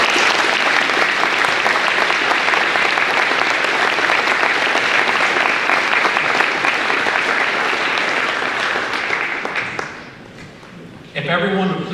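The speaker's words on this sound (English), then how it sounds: "Please join me in a round of applause as we recognize all those who have answered the call to serve" Loud, sustained applause from a large audience at a high school Veterans Day program honoring veterans, steady for about ten seconds before thinning out, with a voice briefly emerging at the end.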